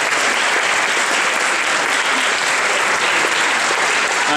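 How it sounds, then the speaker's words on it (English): Audience members at a band concert applaud themselves with dense, constant, loud clapping that stays level throughout. "Give yourself a round of applause"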